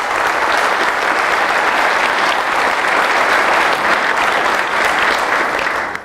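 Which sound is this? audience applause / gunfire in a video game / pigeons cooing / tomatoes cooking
audience applause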